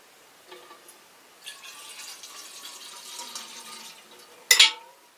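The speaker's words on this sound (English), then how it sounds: "what's really cool about this is that you can add water to it." Water is poured into a found-object hand drum, with a few soft bumps, a low trickling fill and a brief louder splash near the end, close and quiet.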